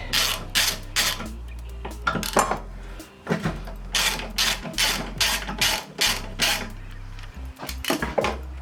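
A ratchet clicks in quick repeated bursts while turning a T40 Torx socket on a Peugeot TU5JP4 engine during clutch work, sharp close ratcheting strokes separated by short pauses.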